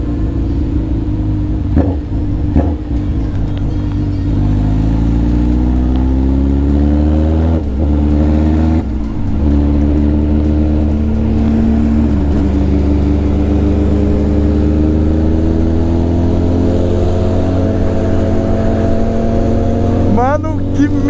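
A Honda CB1000 motorcycle engine with a loud modified exhaust idles and revs steadily in a deep, continuous rumble, with pitch rising and falling through several throttle blips; people talk briefly over it.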